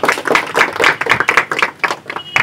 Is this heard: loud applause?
yes